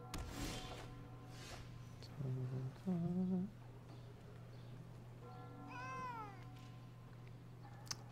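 A house cat meows a few times indoors, two quick low cries followed by a longer rising, wavering meow, faint against a steady background hum.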